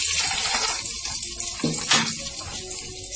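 Whole spices dropped into hot oil in a pan at the start of a vegetable curry, a steady broadband sizzle and hiss running throughout with a couple of brief louder spits near the middle.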